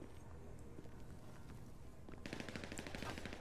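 Rapid automatic gunfire from the video game GTA V Online erupts in a dense burst partway through, following a stretch of quieter scattered shots and steady game background noise.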